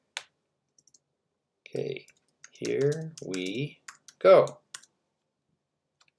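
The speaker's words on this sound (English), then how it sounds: "I'm just going to type her a quick message." Quick keyboard clicks from typing a message on a computer keyboard during a Skype chat, patchy and light, scattered among a person's speech.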